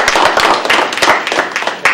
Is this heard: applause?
yes